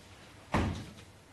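A single soft knock sounds at a séance, one muffled thud with a short decay over quiet room tone.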